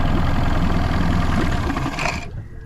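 A 1998 Mariner Bigfoot 25hp four-stroke outboard engine runs with a steady, loud mechanical chugging close by, then cuts out abruptly as it dies, leaving near silence.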